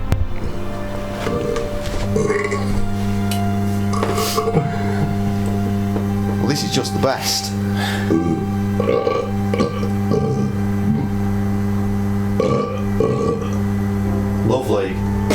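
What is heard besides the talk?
collage of recorded burps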